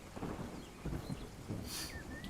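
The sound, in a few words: rain falling in the morning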